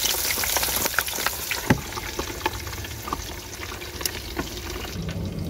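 Potato fries pan-frying in oil, a crackling, watery sizzle with scattered sharp pops and spits, fairly loud and close, no talking.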